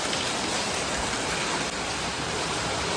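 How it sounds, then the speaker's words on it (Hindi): A hailstorm with heavy rain batters down outdoors, a loud, dense and unbroken roar of falling water and ice pelting the ground, with no talking. "तूफान चल रहा है, तूफान, ओले गिर रहे हैं दोस्तों, ओले। यहाँ देखो कितनी खतरनाक बारिश लग रही है भाई"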